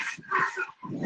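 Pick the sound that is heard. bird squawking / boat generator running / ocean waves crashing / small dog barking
small dog barking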